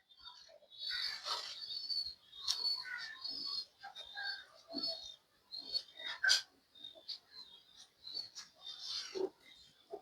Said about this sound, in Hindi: ये पुराने कबूतर हैं ताया जी वाले।